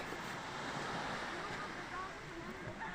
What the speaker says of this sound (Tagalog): ayan ang ating karagatan eh maalon talaga ito sa gitna ng dagat